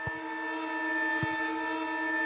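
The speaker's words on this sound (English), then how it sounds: "The Panthers will be relieved to hear the siren because they'll get the chance to reset." A quarter-time siren sounds at a women's football match, a loud sustained steady-pitched wail with strong harmonics holding throughout, alongside a couple of brief low thuds.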